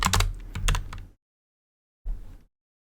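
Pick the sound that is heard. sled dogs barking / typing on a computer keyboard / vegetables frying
typing on a computer keyboard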